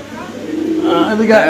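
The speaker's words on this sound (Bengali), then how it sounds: "আমরা একটু কবুতরটা ধরে দেখাবো" A black or white Spanish breed pigeon coos softly in low, rolling tones, with people talking nearby and some background noise.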